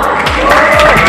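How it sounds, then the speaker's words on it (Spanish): Audience at a student pageant in Cutzamala, a Miss and Mister contest at a CBTA agricultural school, claps and cheers loudly, a brief steady crowd roar with some shouting. "Fuerte las palmas"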